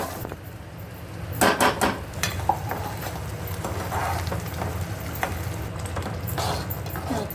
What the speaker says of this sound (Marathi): आता मी तांबाटा आणि कांद्याची ग्रेव्ही केलेली त्याच्यात टाकते